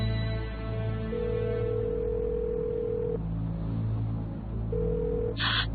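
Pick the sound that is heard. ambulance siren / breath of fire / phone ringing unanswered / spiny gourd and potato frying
phone ringing unanswered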